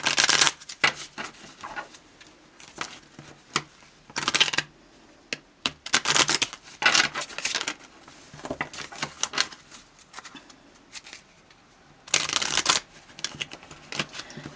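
A deck of cards is shuffled up close in repeated bursts of riffling and flicking, separated by short quiet gaps, with no speech.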